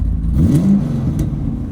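A car engine revs briefly and loudly up close, one short surge of revs settling back within a couple of seconds.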